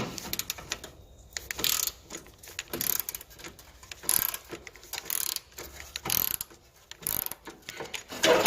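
Ratchet undoing the front bumper bolts on an Alfa Romeo MiTo: close, loud bursts of rapid ratcheting clicks in repeated strokes, separated by short pauses as the wrench is reset.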